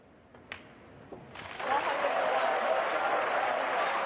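Snooker crowd at the Shanghai Masters 2024 final applauding Shaun Murphy's century break, a few scattered claps at first swelling into loud, sustained applause from the hall, with commentary voices heard beneath.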